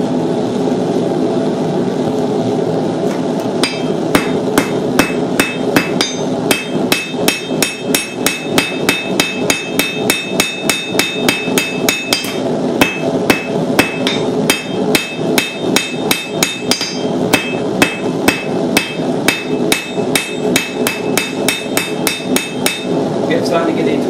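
A hammer beats hot steel to draw it out into a rough knife shape, striking in a fast, steady rhythm of sharp, loud ringing blows that continue for the whole stretch.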